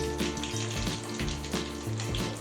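Curry leaves and a pinch of asafoetida crackling in hot oil in a pan for leftover-idli upma, a steady close sizzle with scattered pops and no voices.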